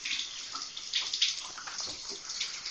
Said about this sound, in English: I like to fill up with hot water first.